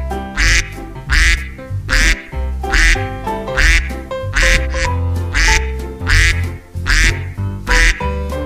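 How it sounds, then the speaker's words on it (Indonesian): Repeated loud quacking from a mother duck or goose, several harsh calls in an irregular rhythm, near and prominent with no talk over it. "Wow, lihat teman-teman, ada induk bebek angsa."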